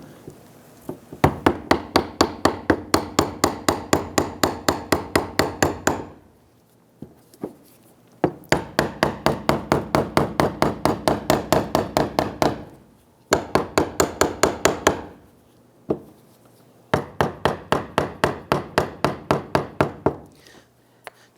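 A block is hammered to lock down the fuel pump collar on a 1999-2004 Jeep Grand Cherokee: long runs of rapid, evenly spaced knocks in several bursts separated by short pauses, loud and close.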